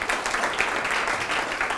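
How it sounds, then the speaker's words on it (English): Lecture-hall audience applauding a student who asked a question, a steady wash of clapping heard close and moderately loud for under two seconds without speech. "So round of applause for Ryan."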